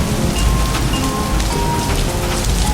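A steady, close rain shower pattering on surfaces, with a continuous hiss of drops and a low rumble underneath, no voices.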